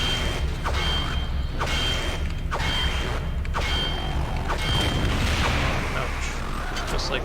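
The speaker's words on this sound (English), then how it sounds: "This one will explode on us." A robot blows up in System Shock 2 amid a continuous dense game soundscape of mechanical clanks and booms, with sharp impacts every second or so and a voice talking over the din.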